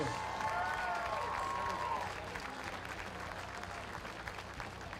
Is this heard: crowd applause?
yes